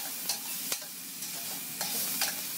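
Minced pork frying with curry paste and chili paste in a pan, a steady soft sizzle broken by several sharp spatula scrapes and stirs, close and fairly quiet, with no voices.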